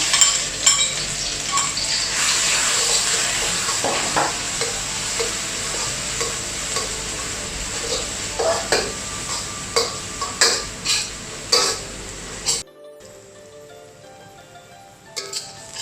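Onions stir-fried for vegetarian capcay in a pan over a charcoal clay stove: a steady loud sizzle with frequent sharp spatula scrapes and clinks, dropping abruptly to a quieter sizzle near the end.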